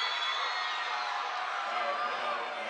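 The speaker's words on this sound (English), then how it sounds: "the Northside crowd is excited as Tex is coming in the game" Home crowd at a boys' high school basketball game in a school fieldhouse, a steady, loud wash of cheering and whooping filling the gym, with a commentator's voice running over it.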